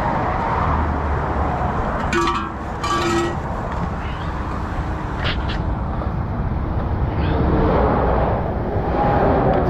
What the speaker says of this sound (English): I don't know if you can hear the old traffic go past us.